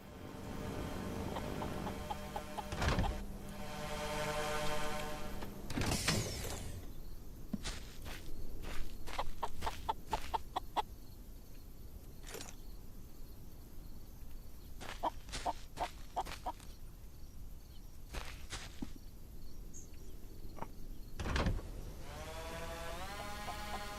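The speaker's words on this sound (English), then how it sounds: "Yep, that's a chicken." In a video game, a chicken clucks in scattered bursts among repeated footsteps, quiet and some distance off, with no talk.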